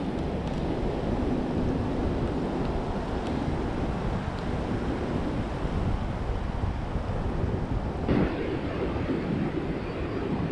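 Ocean waves surge and wash through rocks on the coast at Esperance, Western Australia, a steady roaring swash with wind buffeting the microphone and a slightly stronger surge near the end.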